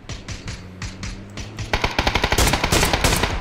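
Loud automatic gunfire in the video game PUBG, starting with spaced shots and building into a dense, rapid rattling burst of rounds that fills the clip, with no talking.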